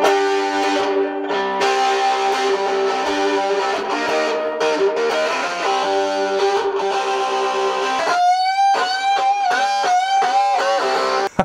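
RISA TE tenor electric ukulele, telecaster-inspired, played through an amp with distortion: sustained overdriven strummed chords ringing steadily, then a run of bright picked notes near the end.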